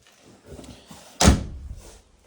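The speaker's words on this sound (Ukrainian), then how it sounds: "І двері закриваються." The door of a Ford Sierra shuts with a single solid thunk at close range, preceded by faint handling noises and followed by a brief fading rattle.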